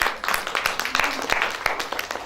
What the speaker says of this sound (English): thank you for clapping for them.